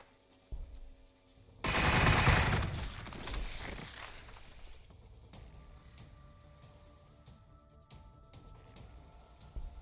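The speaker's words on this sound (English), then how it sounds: "I'm just gonna keep chasing you down, shooting you" Automatic weapons fire in the Warhammer 40,000: Gladius strategy game, a loud rattling burst lasting a couple of seconds after a single shot, then a quieter rumbling battle tail with scattered faint clicks.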